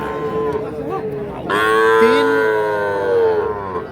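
Calves and cattle moo at the Ambari livestock market in Parbatipur, Dinajpur, with long, loud, tonal lows overlapping close by, one call rising and bending, while someone speaks briefly.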